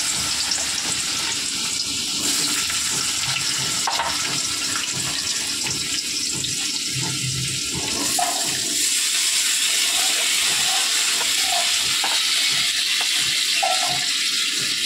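Potatoes go into hot oil already tempered with nigella seeds and dried chili, giving a steady, close sizzle and hiss that stays loud throughout with no voices.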